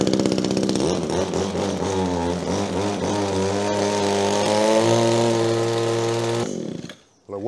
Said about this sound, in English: Echo strimmer, that's an echo hedge trimmer.